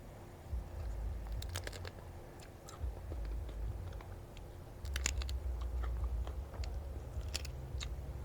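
Grilled shrimp roe dipped in seafood sauce being bitten and chewed close to the mic, with soft crunches and small wet clicks spread across a low background hum.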